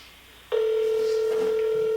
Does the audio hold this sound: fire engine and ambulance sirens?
no